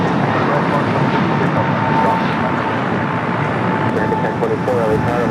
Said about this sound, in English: Air Tahiti Nui, the Dreamliner, running slightly a little bit late here today.